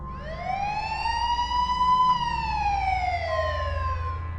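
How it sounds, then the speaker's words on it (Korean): A police siren wails, rising and falling in long sweeping tones over a low rumble, steady and fairly loud, with no voices. "밖에서 사이렌 소리가 들렸어요"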